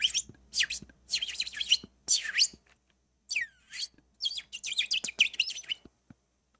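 A man imitates a bird with his voice, giving a series of short high chirps and tweets in bursts with brief gaps, close and fairly soft.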